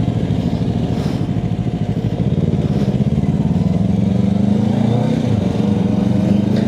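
A motorcycle ridden slowly and carefully along a road in Japan, its engine putting out a steady close, throbbing drone that rises slightly in pitch toward the end.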